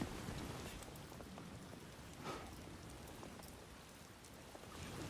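Timefall rain pours in the video game Death Stranding 2, a faint, dense, steady hiss of rainfall with scattered drop patter throughout, and no voices.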